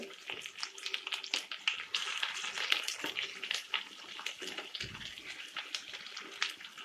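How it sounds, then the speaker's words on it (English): Chopped onion sizzles in heated oil, a steady bright crackle and hiss with scattered pops that runs continuously, close and moderately loud. "Now I will add the onion to the heated oil."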